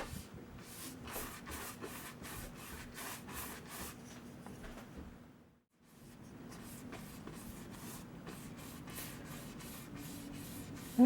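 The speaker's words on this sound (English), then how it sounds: "you can do crisscross motion or side to side motion, it doesn't really matter, and apply your gesso" A brush spreads gesso across a canvas in crisscross and side-to-side strokes, giving a steady, close scratchy rubbing with regular stroke pulses that pauses briefly midway, then resumes.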